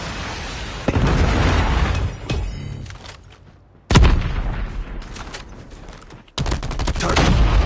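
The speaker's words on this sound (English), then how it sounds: "Friendly Predator missile inbound." Gunfire and a Predator missile strike in Call of Duty Mobile: dense bursts of shots and booming blasts, with a huge explosion hitting abruptly midway and heavy firing cutting back in near the end, loud and close.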